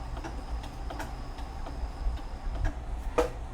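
A sewing machine fitted with a ribbon and sequin foot sews a lock stitch, a close, fairly quiet rhythmic ticking and clicking over a low mechanical hum.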